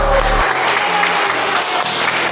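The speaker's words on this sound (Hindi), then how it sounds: "एक बारी सभी अपने लिए फिर से जोरदार ताली बजाएं" An audience at a Miss Fitness pageant event bursts into loud, sustained clapping that fills the whole short stretch, with a few faint crowd voices mixed in.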